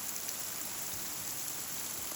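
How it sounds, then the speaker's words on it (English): Heavy rain pours down outdoors during a downpour heavy enough to send a stream of water down a footpath, a steady, dense hiss with no breaks and no voices. "It's absolutely pouring."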